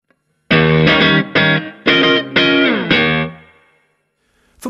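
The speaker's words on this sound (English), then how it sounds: "Now add some reverb, and we're getting there." Electric guitar playing a short series of strummed chords with distortion and reverb, each chord ringing out, the last one decaying into a lingering tail.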